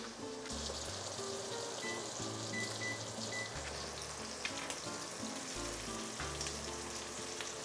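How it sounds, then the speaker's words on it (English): Shrimp sautéing in a pan, a steady close sizzle and crackle of frying filling the whole stretch at an even loudness, with faint stirring or utensil sounds beneath and no one speaking. "So then we're gonna take this and refry it."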